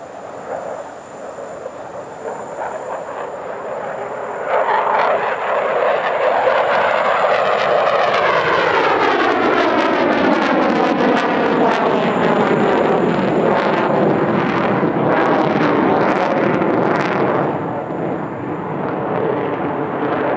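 A powerful fighter jet roars through a pedal turn at the Dubai Airshow, its engine noise swelling and sweeping in pitch as it passes, loud and sustained for most of the stretch.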